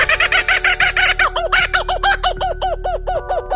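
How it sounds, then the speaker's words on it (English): A kookaburra gives its laughing call, a rapid run of loud, repeated cackling notes that rise in a steady rhythm, close and clear. "Number 4, kookaburra."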